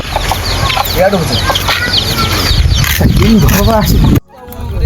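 Chickens cluck close by in a few short bursts, with rooster-like calls over steady background chatter and noise before a brief drop near the end.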